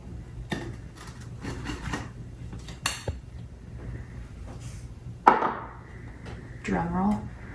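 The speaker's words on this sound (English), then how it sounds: "we're going to flip the cake" Cake being flipped out of its baking pan: scattered clunks and scrapes of metal pan and plate on a counter, with a sharp knock and a short rattle later, in a quiet kitchen with someone talking now and then.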